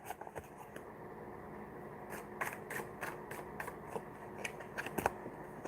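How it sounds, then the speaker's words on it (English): Tarot cards are shuffled close up in a quiet room, with a series of soft, crisp riffling snaps and flutters in irregular bursts. "Sorry, that's such a loud shuffle"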